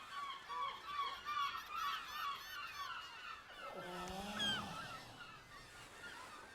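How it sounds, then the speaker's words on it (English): Seagulls call in the anime Vinland Saga, a dense overlapping chorus of high, harsh cries that runs throughout, with a lower honking flurry breaking in partway through. "Darn seagulls."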